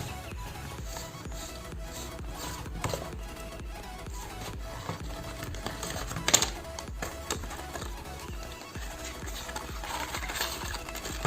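Packaging of an X-Man Volt V2 M speed cube being handled and opened, with close crinkling, tapping and small plastic clicks running steadily at low level, no voices.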